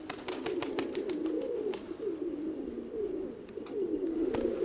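Mykolaiv pigeons coo in a steady, low rolling murmur, with sharp wingbeat claps and flutters breaking through near and loud.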